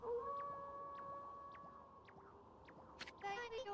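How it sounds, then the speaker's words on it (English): Kimu, a wolf in the video game Okami, gives a long drawn-out howl with sustained wavering tones, layered over game music and ambience, loud and close. "That was Kimu's howl."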